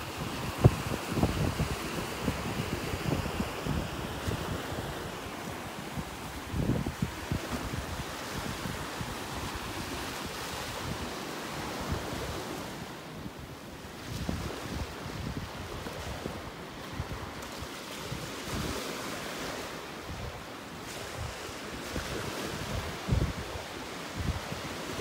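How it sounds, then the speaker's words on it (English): Steady wind rushes across a Gulf beach at Delnor-Wiggins Pass State Park, mixed with surf noise, loud and continuous throughout with gusty swells and no talk. "Wind is hitting me from behind now."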